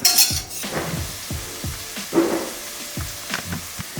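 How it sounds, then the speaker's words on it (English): Onions with mustard seed powder and red pepper flakes fry in a pan while a utensil stirs and scrapes repeatedly, giving close sizzling under rhythmic scraping and clinking strokes. "Stir that up and cook those until the onions become translucent."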